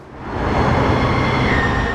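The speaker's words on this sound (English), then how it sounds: "A packed light rail train headed downtown on a FIFA game day is a good sign." A packed light rail train headed downtown on a game day rolls past as a loud, steady rumbling roar that swells and holds for two seconds, with no voices.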